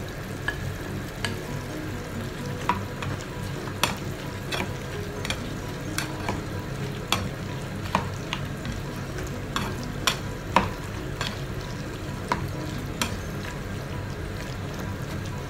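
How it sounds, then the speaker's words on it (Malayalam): Sliced okra added to boiling tamarind in a cooking pot and stirred, giving a steady bubbling hiss with sharp utensil clicks against the pot every second or so, and no talking. "ഇനി നമുക്ക് ഇതിലേക്ക് നമ്മൾ കട്ട് ചെയ്ത് വെച്ചിട്ടുള്ള വെണ്ടക്ക ചേർത്ത് കൊടുക്കാം."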